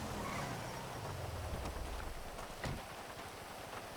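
Steady rain hisses throughout at moderate level in GTA Online, with a low rumble of a vehicle slipping on the wet road underneath and a few scattered thumps.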